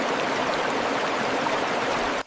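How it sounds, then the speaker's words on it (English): Water from an underground spring in a small valley flows steadily in a dense, hissing rush, close and unbroken, then cuts off abruptly near the end. "The herd stops in a small valley and begins to drink from an underground spring."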